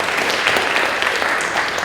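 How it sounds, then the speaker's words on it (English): An audience at a National Junior Honor Society induction ceremony applauds the candlelighters, a steady wash of many hands clapping evenly throughout without any speech. "can we give a round of applause for our candlelighters?"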